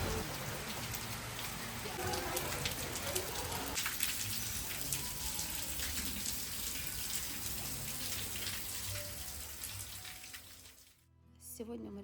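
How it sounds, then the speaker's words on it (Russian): Heavy tropical rain in Mombasa, Kenya pours steadily, a dense hiss of drops on a pool and surfaces, continuing for several seconds before cutting off near the end. "Впервые за неделю пошел тропический дождь"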